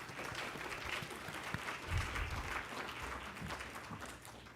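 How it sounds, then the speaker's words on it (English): A church congregation applauds at a Unitarian Universalist Sunday service. The clapping is soft and steady, heard from a distance, and lasts the whole time. "Can we get a round of applause for Lynn?"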